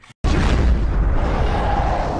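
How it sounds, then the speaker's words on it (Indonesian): Zombies blown apart by a trap in a horror film: a sudden loud, sustained boom and rumbling burst that starts abruptly after a brief gap and fills the clip, with no talk. "jebakan pertama mereka berhasil, yaitu si zombie-zombie pada meledak"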